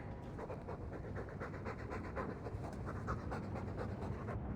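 Rapid, steady panting from a dog in the video game Dragon Age 2 runs continuously throughout, close up and dense, blended with a low ambient rumble.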